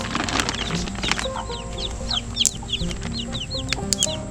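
Silkie hen clucking softly among her chicks on a homestead, low repeated clucks under a stream of high, thin peeping from the babies, close and continuous.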